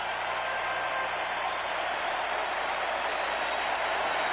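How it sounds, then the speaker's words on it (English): A big ballpark crowd at Game 7 of the 1991 World Series between the Atlanta Braves and Minnesota Twins applauds Kirby Puckett, a steady, sustained roar of clapping and cheering that fills the whole stretch. "they applauded long and loud last night for this fella, and they're doing it again"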